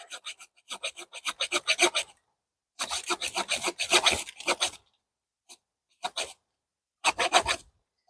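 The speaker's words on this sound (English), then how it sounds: "So this is a dead dry branch. I'm trying cutting that at first." A serrated Gonicc gardening knife saws through a dead, dry branch about an inch thick, making close, rhythmic rasping strokes in quick bursts separated by short pauses.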